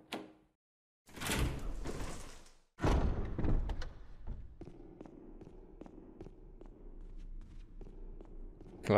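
A door opening in Resident Evil HD Remaster, a loud heavy creak and thud followed by a low hum and soft footsteps, with quiet gaps of near silence.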